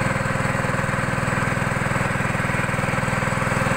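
A small ketek motor boat engine runs steadily and loud and close on a river, with a constant fast putter and no talk over it.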